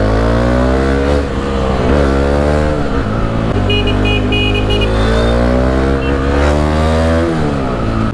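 A loud Dominar 400 motorcycle with a very loud exhaust roars close by, its engine note climbing and dropping through repeated gear changes and throttle swells, steady and dominant throughout with no voices.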